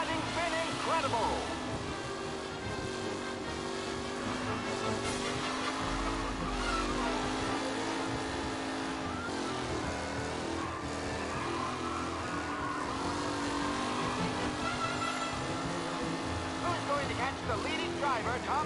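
Vintage race cars roar around a track in the Mafia video game, a steady, continuous engine drone with shifting pitch, while an announcer's commentary runs over it throughout.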